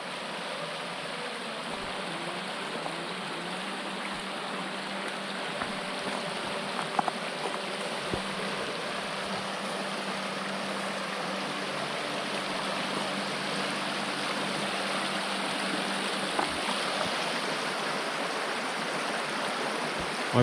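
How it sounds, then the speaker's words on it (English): The Lerderderg River runs through a gully, and its steady broadband rush of flowing water holds an even, continuous level from start to finish with no voices over it. "I present to you the Lerderderg River."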